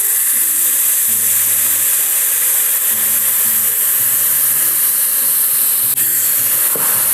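Banana flower hitting hot coconut oil in a pan, a loud, continuous hissing sizzle that holds steady throughout, up close.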